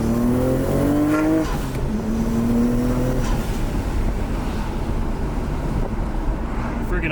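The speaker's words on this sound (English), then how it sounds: "Let's do a little second gear rip." A 2023 Nissan Z Proto Spec revs hard in second gear, its engine note climbing in rising harmonic sweeps before shifting, loud and close under strong wind rush throughout.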